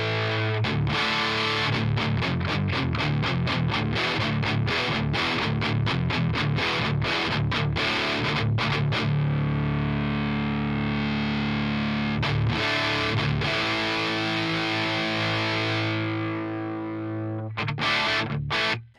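Heavily distorted electric guitar through a Peavey 5150 crunch channel amp model on an Axe Fx III, played first as fast chugging palm-muted chords, then as sustained ringing chords that fade before a few final stabs.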